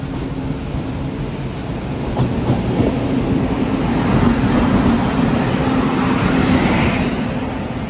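The 10104 Mandovi Express bound for Mumbai rolls along with a loud, continuous rumble and steady rattle, swelling slightly midway and heard up close without speech.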